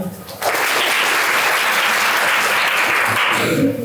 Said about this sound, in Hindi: सोनी और प्रियांशु दोनों के लिए तालियां